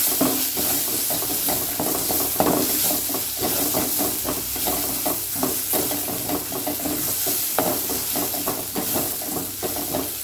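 Vegetable noodle masala with garam masala simmers in a pan, giving a steady close bubbling hiss broken by irregular soft clicks and scrapes of stirring throughout, with no talking.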